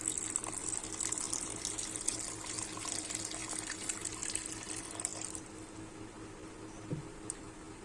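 Water pours steadily into a pan of chicken curry, a close continuous splashing stream that stops partway through, followed by quieter kitchen sounds with no one talking.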